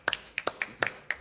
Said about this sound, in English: for which I must give them a round of applause